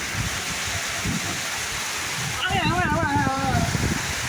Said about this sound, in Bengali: অনেক বৃষ্টি হইতেছে এই বৃষ্টির মধ্যে